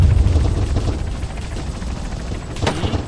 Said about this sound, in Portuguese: Helicóptero de combate na área 2, aliás, acabou de passar um